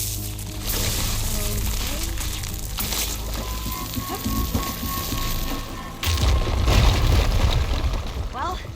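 A fire gleam blast booms in Horizon Forbidden West, a deep loud explosion with rumbling debris that follows a stretch of water-like sloshing and background noise, with a voice speaking beforehand.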